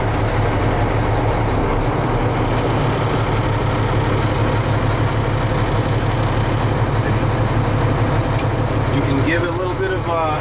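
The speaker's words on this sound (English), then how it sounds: "So I'm going to engage my clutch. I'm going to turn the key." A key-started engine settles into a steady idle in neutral with the clutch engaged, a continuous loud low rumble throughout, with a voice talking over it.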